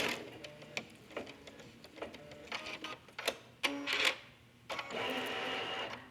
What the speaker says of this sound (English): This step is stitching 3 dividing lines that's going to create 2 pockets